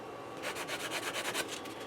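A sanding brick rubbed over a Gundam model kit part (HGBF Gundam Amazing Red Warrior), giving soft, quiet rhythmic scrubbing strokes repeated about a dozen times in quick succession, close up with no talk.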